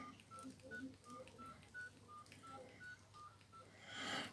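A retro 2005 Nokia mobile phone sounds its keypad tones as numbers are pressed, about a dozen short, clear beeps at varying pitches in a quick, uneven rhythm, quiet and close, followed by a brief rustle at the end.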